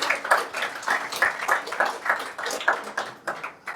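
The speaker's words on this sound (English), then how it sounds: "A big round of applause for our speaker." Seminar audience gives a steady round of applause for the speaker at the close of the session, clapping continuous and moderately close for several seconds with no talk over it.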